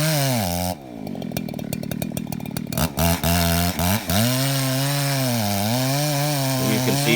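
A chainsaw running hard and close while making the back cut on a big leaning tree, with the engine bogging and recovering in pitch as the chain bites and grabs in the wood, continuous and loud without any talk.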